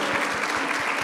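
A standing crowd at a clean-ocean network event gives a thick, continuous burst of applause, close and steady, with a faint rhythmic pulse of clapping running through it.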